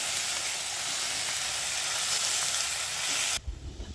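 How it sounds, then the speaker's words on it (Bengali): Cauliflower and potato curry with a little water sizzles loudly and steadily in a pan as it is stirred, then the hiss cuts off abruptly near the end, leaving faint scraping. "এই ঠিক আছে, ঠিক ভালো মতো নাড়িয়ে নেব।"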